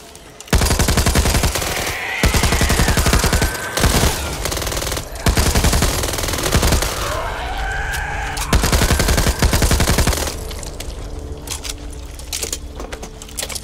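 Rapid submachine gun fire in the zombie shooter Back 4 Blood, loud sustained bursts with brief pauses, ending in quieter mechanical clatter and ambient hum.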